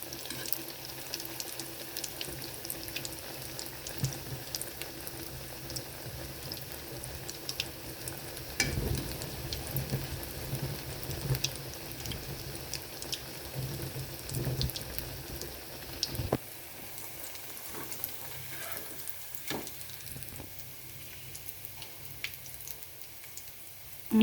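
Egg pakoda deep frying in hot oil over a medium flame, a continuous hissing bubble with scattered crackles and a few clinks, fading slightly toward the end.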